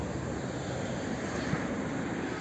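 A 2010 Opel Zafira facelift 1.8 MPI petrol engine drones steadily at idle from the exhaust, a constant even rumble with no variation, no talking.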